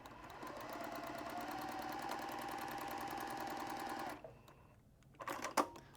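A sewing machine runs steadily for about four seconds stitching a quarter-inch quilting seam, then stops, followed by a few light clicks and handling sounds.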